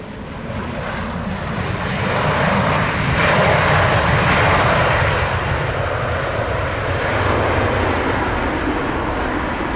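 A jet airliner landing at Montego Bay airport in Jamaica, a loud, steady broadband engine roar that swells slightly midway and holds close throughout, with no voices.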